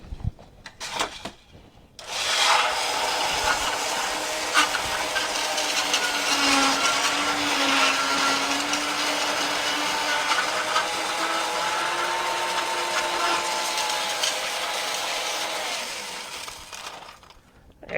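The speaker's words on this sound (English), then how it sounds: "So normally, if I'm using the spindle blender, I'm going to do a flash blend." A spindle blender crushes ice with raspberry puree, starting with a few sharp clatters before a loud, steady grinding whir that holds for about fifteen seconds and then cuts off.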